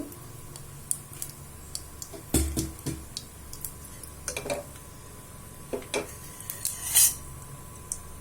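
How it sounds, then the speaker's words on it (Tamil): Spices and buttermilk-dried chillies sputter and pop in hot oil, scattered sharp crackles at irregular intervals over a quiet background, with no voices. "பாருங்க பொறிஞ்சு பொறிஞ்சு சத்தம் கேட்குது"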